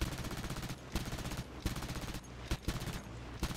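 Rapid machine-gun fire in a tank combat game hammers the player's tank in quick close bursts, with short gaps and a few heavier impacts between volleys.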